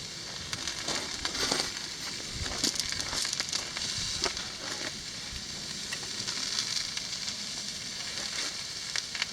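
Meat such as veal burgers and steak sizzles steadily on a Cadac 2 Cook 2 Pro Deluxe QR gas barbecue hot plate, a close, continuous hiss with scattered crackles and pops throughout.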